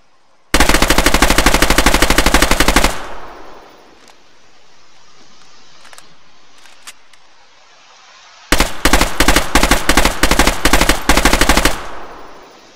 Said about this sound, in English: The VZ-58. Just a Czech copy of the AK.